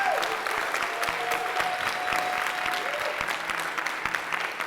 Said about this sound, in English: can I get one big round of applause for Steven?